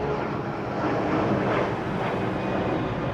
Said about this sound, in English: Some planes flying over.